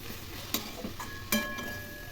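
Spinach tossed with fried lentil dumplings in a pan, a soft low sizzle with a few quiet stirring knocks, faint and brief, no voices.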